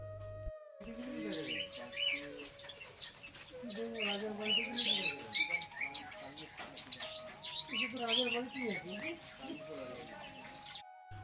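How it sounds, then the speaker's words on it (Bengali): Many colourful birds in an aviary chirp and call busily at once, with shrill twittering mixed with lower clucking notes, at moderate volume throughout. "সেখানকার নানা রঙের পাখির কিচিরমিচির শব্দ পুরো"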